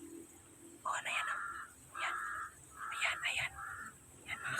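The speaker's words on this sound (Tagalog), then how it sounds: "Pinapalibutan ako ng uwak." Crows circle close overhead, giving a series of harsh, repeated caws in short bursts with brief gaps between them, fairly near and clear above a quiet background.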